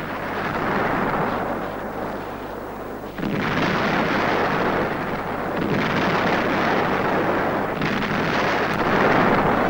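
Loud, continuous roar of artillery fire on the Reichstag in Berlin, a heavy rumbling barrage with a couple of brief lulls before it surges again.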